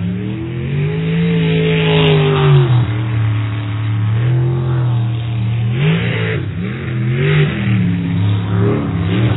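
A race car engine at a qualifying event is worked with feathered throttle, its pitch repeatedly climbing and dropping in loud, uneven surges heard close by for about nine seconds.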